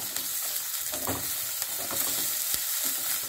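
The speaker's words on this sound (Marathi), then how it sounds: "यामध्ये टाकूया काजू, त्याला छान परतून घेऊया." Cashews frying in hot oil in a pan and being stirred, a steady close sizzle with scraping and clinks of the spoon throughout.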